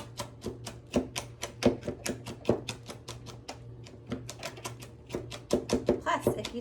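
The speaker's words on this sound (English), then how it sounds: "you don't get to have this much fun chopping" Rapid knife taps on a cutting board, irregular bursts of chopping with brief pauses, close and fairly loud over a low steady hum.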